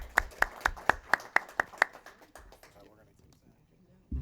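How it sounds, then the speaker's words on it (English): A small group at a school board meeting claps for student teams, a short run of about eight sharp, evenly spaced claps up close that quickly fades into quiet room noise. "Another round of applause for the teams from HydroSync and TemStep."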